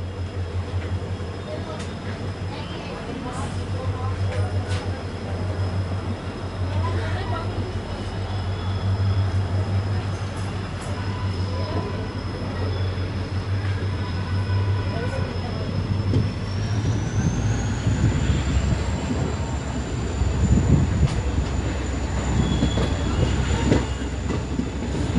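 A passenger train pulls out of Dalpatpur on the Moradabad to Rampur line, with a steady rumbling roll, a low engine drone and a high whine that rises partway through, the noise swelling toward the end amid faint background chatter.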